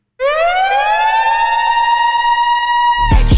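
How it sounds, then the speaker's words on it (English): A loud electronic siren wails steadily, its pitch rising slightly at the start and holding for about three seconds before a sudden cut into other sound; a 1984 Adams and Fleisner library effect, Pulsar City Alarm, sampled in a song. "The siren on the song is from the 1984 sound effect library by Adams and Fleisner"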